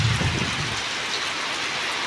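Heavy rain and strong wind during Typhoon Tino in Southern Leyte, a steady close hiss of downpour with a low rumbling gust at the start.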